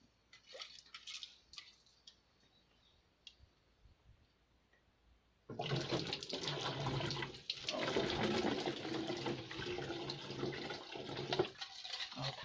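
Water poured into a container while mixing a simple homemade photosynthetic bacteria culture: a few faint taps and drips, then a loud, steady rushing gush that continues to the end.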